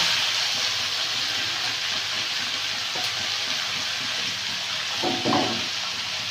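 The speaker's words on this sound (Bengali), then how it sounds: "তেতে গেছে তেল দিয়ে দেবো দিয়ে দেবো তেজপাতা পাঁচফোড়ন দিয়ে পালং শাকটা দিয়ে দেবো" Spinach with bay leaf and panch phoron sizzles in hot oil in a village kitchen wok, a steady loud broadband hiss throughout with a few brief louder crackles near the end, no voices.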